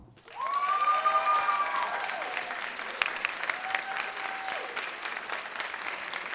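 A concert audience claps in a loud, sustained burst of applause for student players at an annual school concert, with a sustained brass note ringing out over the start.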